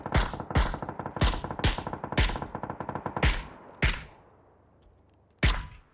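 Rapid bursts of video game gunfire, several sharp volleys in quick succession, then two isolated loud shots with pauses between.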